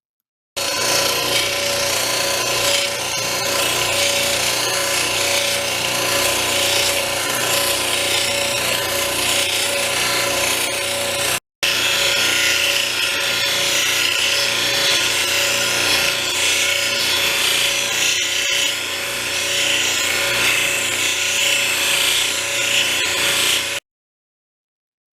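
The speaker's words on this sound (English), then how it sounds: "We continue the smoothing with the 600 grit and then the 1200 grit wheels" A cabochon stone is smoothed on 600 and then 1200 grit wheels, a steady, loud grinding hiss with a humming motor tone. One very brief gap splits the run, and no one speaks.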